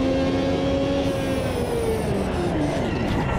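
Ferrari 333SP race car in Automobilista 2, its engine note holding a steady loud whine that climbs and falls through shifts, with tyre and track noise filling the background throughout.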